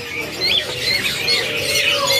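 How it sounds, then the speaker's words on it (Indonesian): Hill myna (beo) calls at a bird market kiosk near Ujung Kulon, with shrill squawks and whistles over a busy, noisy background hum. "ini burung beo jenis MH-nya ataupun muda hutan"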